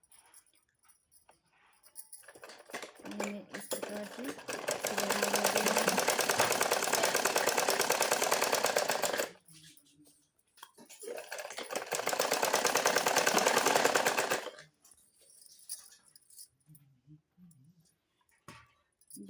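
A sewing machine stitches cloth for a blouse neck and belt in two long loud bursts of rapid, even needle clatter separated by a pause, with quiet handling sounds in between.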